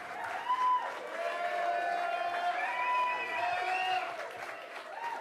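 A large crowd cheers and applauds for Congressman Hakeem Jeffries as he takes the stage, a continuous wash of clapping and voices with tonal whoops rising and falling over several seconds.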